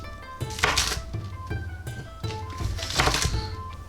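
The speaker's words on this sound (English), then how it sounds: "We'll start with the green onions. Cut off the bottoms." A knife chopping green onions on a cutting board, sharp regular thunks in quick succession at close range, with no talking.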